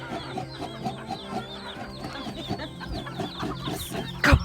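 Chickens cluck around the listener in a busy outdoor scene, with many short overlapping calls at close range and a louder rustle or bump near the end.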